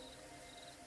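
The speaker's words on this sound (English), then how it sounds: "A little bit of chirping of crickets," Crickets chirping at night in a forest setting, a steady faint high trill running through the whole short stretch with soft continuous background hum.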